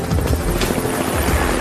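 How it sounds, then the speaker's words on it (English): An MH-65 Dolphin helicopter flies close and loud, a dense continuous rotor thrum and turbine roar with rapid blade chop filling the whole stretch, with no voices. "It's a great helicopter."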